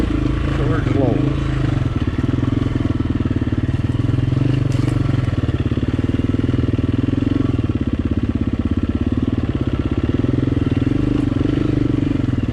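A dual-sport motorcycle loaded with five gallons of gas rumbles continuously on a dirt trail in Idaho, engine droning steadily with wind buffeting and occasional clatter throughout.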